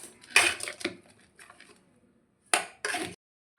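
Spoon clattering against a metal pot while tomato, onion, ginger-garlic paste, turmeric, chilli powder, salt and mutton are stirred together for mutton uruppu, in a few sharp bursts of scraping and clinking with pauses between.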